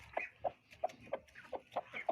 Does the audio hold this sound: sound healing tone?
no